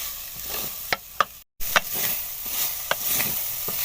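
Grated potatoes fry in a pan with a continuous bright sizzle, broken by several sharp stirring scrapes and clicks and one brief dropout midway.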